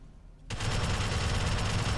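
Turret gunfire in the sci-fi shooter Alien Swarm starts abruptly after a brief quiet lead-in, then runs as a loud, dense, continuous burst of rapid shots for the rest of the moment.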